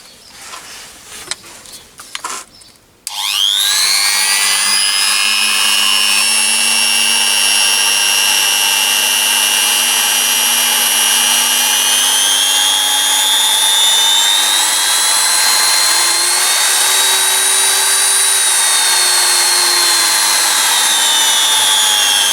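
A 220V 400W Drillpro die grinder spins up after a few seconds of handling noise, then runs steadily and loudly with a high whine that drifts slightly in pitch, alone without talk.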